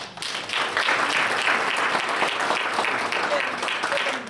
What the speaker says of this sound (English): Both candidates, a round of applause, please.